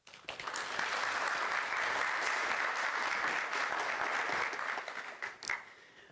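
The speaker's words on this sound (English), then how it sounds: "One more round of applause, please" Warm audience applause at an adult basic high school equivalency graduation ceremony in Pima County welcomes the superintendent, swelling quickly into a loud, dense roar of clapping that holds steady, then thins and fades with a few last claps.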